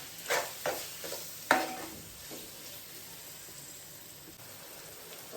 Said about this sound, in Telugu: ఈ రెండు వేసుకొని ఒక 1 మినిట్ అనేది ఫ్రై చేసుకోవాలి